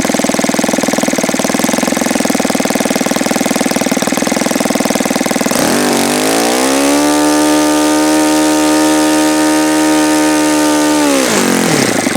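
An OS FS-120S III four-stroke model aircraft engine runs loud and close, a steady buzzing roar for several seconds, then its pitch drops and settles into a lower, stable idle before rising again near the end.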